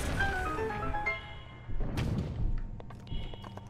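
A bomb explodes in Zelda: Breath of the Wild, a deep thud with a burst of crackling debris following a quieter game tone, with a few lighter knocks trailing after.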